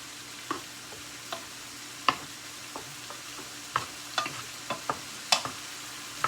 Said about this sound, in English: so I'm just going to give this a good stir